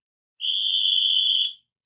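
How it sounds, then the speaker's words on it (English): A coach on a football field gives one sharp, steady whistle blast lasting about a second, loud and clean against silence. "Coach P blows another whistle on the play"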